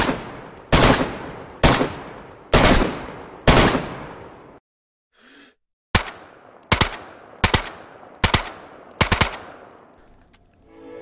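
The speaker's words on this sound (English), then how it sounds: "It's pretty easy to control, even on 4 auto." AK assault rifle in DayZ firing loud full-auto bursts, about eight short rapid volleys separated by brief pauses and one near-silent gap, each burst cracking sharply and ringing out.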